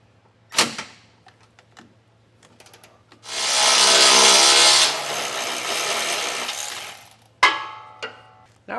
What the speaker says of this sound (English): So we'll take a 15mm socket in order to do that.